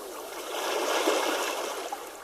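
Soft, continuous watery rush and lapping as a boat pulls away from a pier, a quiet, even wash that swells gently near the middle and holds without any voices.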